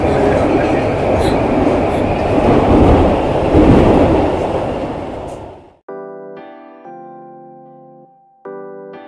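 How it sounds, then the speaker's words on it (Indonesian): A KRL commuter train rides the Jakarta–Bogor line, with a loud rumbling roar of the moving train for several seconds that cuts off abruptly, followed by clean electronic tones like an onboard chime. "lagi naik KRL jurusan Jakarta Bogor"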